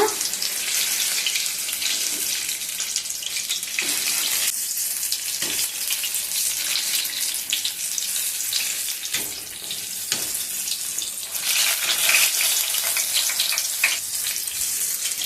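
Chilli bajji fry in hot oil with a loud, dense, continuous sizzle and crackle, heard close up and steady throughout, with occasional faint knocks and no voices.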